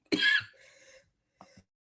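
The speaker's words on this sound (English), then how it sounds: "I'm sorry, y'all, for coughing like that in the mic." A harsh cough right up against the microphone, then a rough throat-clearing rasp and a brief second catch of the throat.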